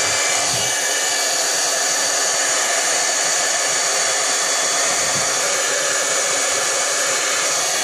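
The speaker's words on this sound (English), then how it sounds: "And then we're going to use the heat tool." A heat tool blows steadily close by to dry pooled watercolor on paper, giving a loud, even, continuous whooshing roar that lasts throughout with no talking.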